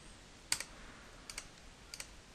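Keys on a computer keyboard are pressed in three quiet, separate pairs of crisp clicks, spaced apart over a hushed, faintly hissing room, with no talking.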